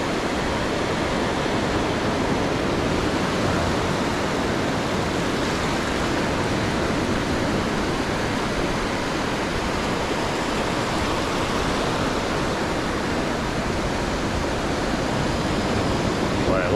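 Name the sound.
ocean waves breaking on the beach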